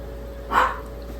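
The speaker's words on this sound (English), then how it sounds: "Sorry again, family and friends, for Prissy barking." A single short dog bark sounds once, mid-distance, over a steady low background hum.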